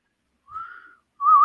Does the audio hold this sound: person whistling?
yes